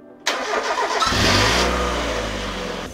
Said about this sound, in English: we're going to start the car, let it run up to temperature